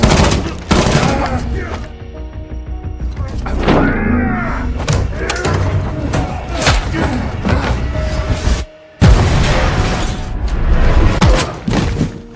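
Loud bursts of gunfire erupt in rapid volleys alongside booms and bangs in a film shootout in a glass hotel penthouse, dense and chaotic, with a brief drop to near silence midway.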